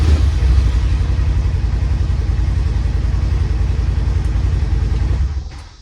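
A Polaris General XP UTV engine runs after a push-button start, a close, steady low rumble with a rhythmic pulse that holds evenly, then winds down and fades out as it is shut off.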